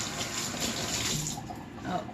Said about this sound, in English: I'm just gonna wash my hands a little bit because they've got raw egg on them.